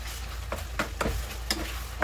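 Chana dal roasting in a pan with salt, stirred with a spoon: a low sizzle under regular scraping strokes about every half second, close and moderately loud.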